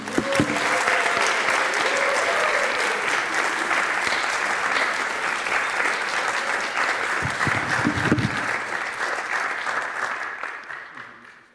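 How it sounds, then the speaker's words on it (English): A conference audience at a spiritual gathering gives sustained, warm applause for over ten seconds, a full, even roar of clapping with some crowd noise that fades out at the end. "Please give me a warm round of applause for Reverend Thomas and Reverend Vicky."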